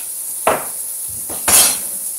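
Two sharp knife chops through courgettes cut on the bias against a cutting board, a brief knock followed by a louder crisp strike a second later, close up in a quiet kitchen.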